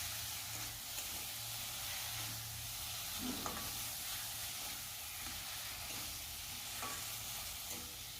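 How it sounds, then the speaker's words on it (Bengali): Fried potatoes being stirred into a spice paste in a Bengali prawn and pointed gourd curry, a steady, even sizzle with soft scraping from the spoon running throughout. "আলুটা মশলার সাথে কিছুক্ষণ আমি কষিয়ে নেব"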